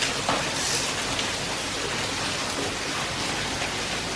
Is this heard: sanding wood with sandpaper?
no